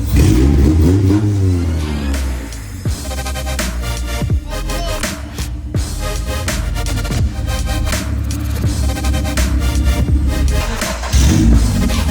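A Honda CRX drag car engine revs repeatedly in sharp throttle blips, loud and close, with rapid rises and falls over a rumbling idle.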